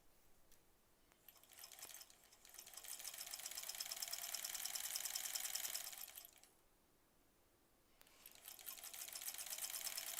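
A sewing machine joins quilt blocks together for a sampler quilt, whirring in two sustained runs that swell and fade with a quiet gap between, close by and without talk.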